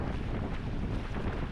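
Strong wind buffets the microphone during a sprint kayak session at French national team selections, a continuous gusty rumble with no talking.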